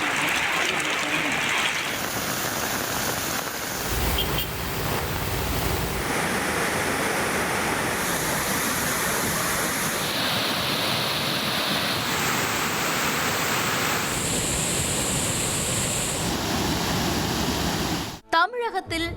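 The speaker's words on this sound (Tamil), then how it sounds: "வெளுத்து வாங்கும் மழையால் ஆறுகள், அருவிகளில் நீர் பெருக்கெடுத்து செல்கிறது." Rivers and waterfalls swollen by heavy monsoon rain in Tamil Nadu pour with a steady, loud, broadband roar, continuous throughout and cut off abruptly at the end.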